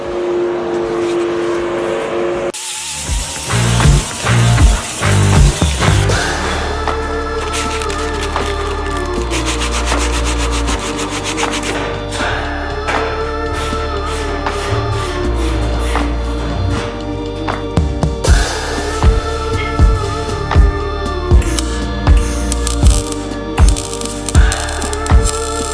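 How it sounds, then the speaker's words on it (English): A die grinder smooths body filler on a 1970 Charger, whining in rapid bursts and rising and falling as it works the surface, loud and close throughout. "let's go through with a little die grinder, smooth all this down"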